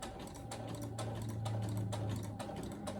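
Sewing machine at low speed stitching quilt fabric, with rapid, soft, even clicking over a quiet hum, close and fairly faint.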